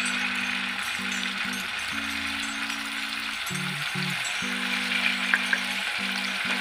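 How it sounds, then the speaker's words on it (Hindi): Green chilli paste with turmeric frying in hot oil in a pan gives a steady, close sizzle that runs throughout, with a low humming tone weaving underneath. "और इस मिर्ची को अच्छी तरह से तल लेंगे।"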